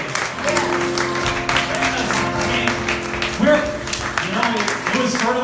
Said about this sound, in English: why don't we just give a round of applause for this place?